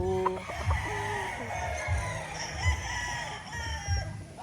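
White Kelso gamefowl rooster on a farm crowing, a clear cock-a-doodle-doo near the start followed by clucking and further calls over steady low thumps and background noise.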